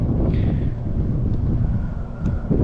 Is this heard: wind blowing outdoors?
yes